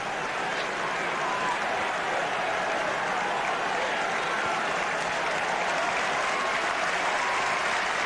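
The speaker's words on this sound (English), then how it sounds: "There's applause there for the youngster Brendan Ger O'Sullivan." Crowd applause at a Gaelic football match, Cork against Kerry in the 1999 Munster final, as a young player leaves the field: a broad, steady wash of clapping and stadium noise that stays even throughout, with a commentator speaking faintly.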